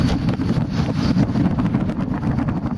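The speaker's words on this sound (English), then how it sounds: "It is windy though, as you can see." Steady wind buffets the microphone in a continuous low roar, loud and close, with a faint wash of choppy water and boat noise beneath it, near a marina in the Les Cheneaux Islands.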